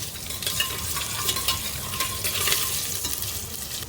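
Two green chillies fry in a pan for a pulao made without onion or garlic, giving a steady close sizzle with light stirring scrapes and no voices.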